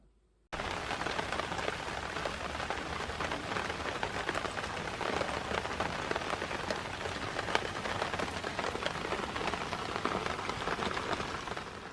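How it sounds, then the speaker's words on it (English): Steady heavy rain drumming on a narrowboat roof, a dense continuous patter starting abruptly and holding constant throughout. "I woke up today to the sound of rain beating down on the roof"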